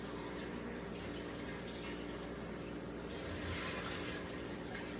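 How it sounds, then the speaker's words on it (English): Cold water pours from a kitchen tap over freshly boiled eggs, a steady close gushing hiss that runs without a break for several seconds. "I'm gonna run some cold water on these things."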